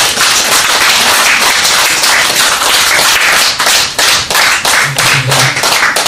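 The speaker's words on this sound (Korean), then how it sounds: "뜨거운 박수로" Hearty applause from a forum audience as a professor is welcomed to speak, dense steady clapping filling the room for about six seconds, close and loud, with no talk over it.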